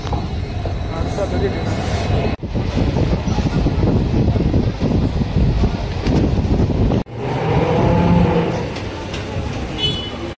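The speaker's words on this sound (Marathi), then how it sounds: "आता रेल्वे आलेली आहे बघा" A train pulls into a station with a loud, continuous rumbling roar that briefly dips twice, while voices sound faintly in the mix.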